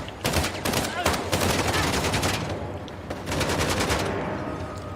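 Sustained automatic gunfire from an Uncharted: The Lost Legacy firefight aboard a moving train, dense rapid volleys rattling on for several seconds over a constant rumbling background, loud and close.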